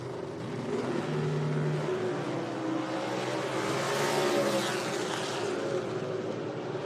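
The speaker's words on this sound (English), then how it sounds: "The early gen Screamer, the late gen LS, battling it out down to the stripe" Drag race cars, an early-gen Screamer against a late-gen LS, roaring down the strip at an IHRA meet at National Trail Raceway, a sustained loud engine drone that swells and holds as they race.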